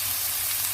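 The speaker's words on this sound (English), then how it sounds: "There we go, frying them one after the other." Homemade meatballs fry in a pan with a steady, even sizzle and hiss that stays close and constant throughout, with no talking.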